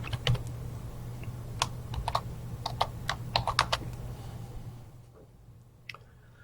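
A computer keyboard clatters with quick, close keystrokes as a search term is typed, clicks coming in short irregular bursts over a faint hum before pausing to near silence, then one last tap.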